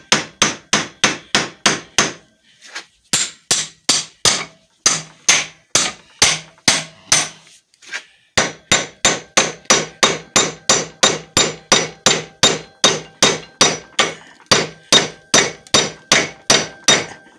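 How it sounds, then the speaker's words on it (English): A hammer strikes a 100 gallon water tank again and again in a fast, steady rhythm, each clang sharp and loud. The blows come in long runs broken by short pauses, with no talking. "They said if you hit it with a hammer"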